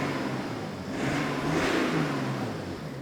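A BMW 335d diesel engine and exhaust, fitted with its DPF, rev up twice in a row, a muffled, fairly quiet rising whoosh and hum heard from outside.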